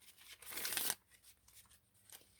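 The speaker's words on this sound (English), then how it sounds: "Let me give just one more shuffle here." A deck of tarot cards is shuffled once in a short, crisp riffle lasting about half a second, followed by faint handling noises in a quiet room.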